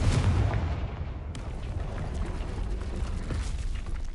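A Confringo blasting spell goes off in a Harry Potter video game, a loud booming explosion at the start that fades into a sustained rumbling roar.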